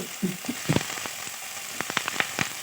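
Carrots being stir-fried in a pan for veg momo filling, quiet sizzle under a series of sharp spatula clicks and scrapes, close and intermittent, no speech.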